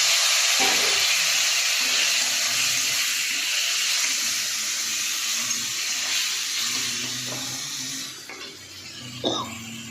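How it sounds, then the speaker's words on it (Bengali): Water pours into a hot cooking pan, giving a steady loud hiss and sizzle that fades slightly toward the end, with a few small clinks near the close. "একটুখানি সামান্য জল দিয়ে দেবো।"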